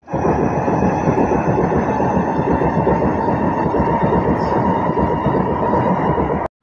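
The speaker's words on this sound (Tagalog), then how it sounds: "Ayun, kita na yung train." Singapore MRT train passes close by near a lakeside garden, a steady loud rumble of wheels and motors holding for several seconds before cutting off.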